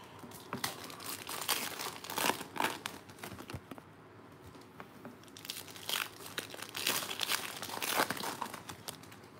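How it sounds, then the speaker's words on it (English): Plastic wrappers of 2018 Panini Hoops basketball trading card packs crinkle and tear as packs are opened, a close, busy stream of crackling bursts with short pauses between packs and no talk. "It's gonna start to open the packs, 24 more packs"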